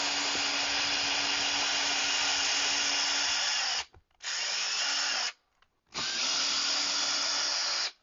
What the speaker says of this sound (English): drive the probe into that area to see if I hit that joist.